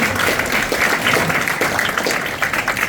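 Audience applause at a community awards ceremony in Derby, a steady, even patter of many hands clapping close by with no break, filling the short moment.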